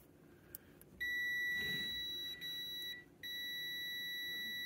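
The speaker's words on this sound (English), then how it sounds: "There we got our beep." A multimeter set to continuity gives a loud, steady electronic beep while probing a hot tub heater element. The tone holds for about two seconds, cuts out briefly, then resumes alone with no talk.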